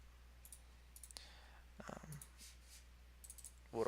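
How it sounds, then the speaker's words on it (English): A computer mouse clicking in a quiet room, several faint sharp clicks spread unevenly over a few seconds with a low background hum, no voices. "I'll just click it."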